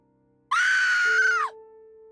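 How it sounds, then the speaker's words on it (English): A woman lets out a single loud, sustained scream of pain, rising sharply and holding for about a second before breaking off, with a faint tone lingering afterward. "she screamed so loudly"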